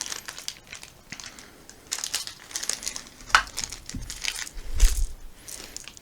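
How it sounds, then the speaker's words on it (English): Translucent plastic game cubes in blue, green, yellow and red being handled in a crinkly plastic bag while unboxing the Terraforming Mars: Ares Expedition board game, with irregular rustling, crinkling and light clicking of cubes, close and fairly quiet. "Got some blue plastic cubes, some green, yellow, and red."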